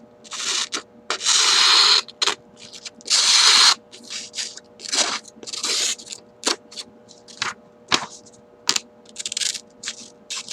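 MCUSTA Katana knife blade slicing through a sheet of paper, giving a run of crisp, close, dry cutting and rustling bursts with short gaps between strokes, heard on its own without talk.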